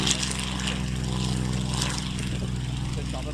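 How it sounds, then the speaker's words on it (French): A Breguet 14 propeller biplane takes off at an air show, its engine a loud, steady drone that holds throughout, with a voice faintly heard over it. "Allez, au décollage, le Breguet 14."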